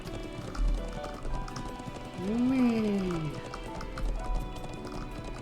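A galloping horse in Trails of Cold Steel 4, steady clip-clop hoofbeats running throughout with a loud neigh in the middle, while a person talks over it.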